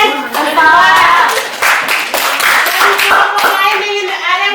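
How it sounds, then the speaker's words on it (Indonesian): A classroom of children claps for a student group, a brisk burst of many hands clapping together at close range, with children's voices chattering underneath. "Tepuk tangan buat kelompok"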